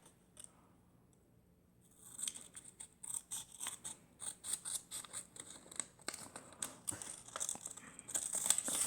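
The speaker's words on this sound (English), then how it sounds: "You're just going to cut down the middle line right here." Scissors snip down the middle of a folded paper origami rabbit to cut the ears, close and crisp, with a quick run of rhythmic cuts that grows busier after a quiet start.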